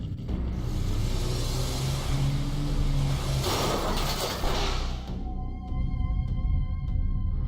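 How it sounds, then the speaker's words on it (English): In the game The Darkside Detective, a car lurches off with its pedal locked, a loud rumbling engine surge that swells and then cuts away, followed by a few sharp rhythmic clicks. "The pedal's locked in place and the car is good to go."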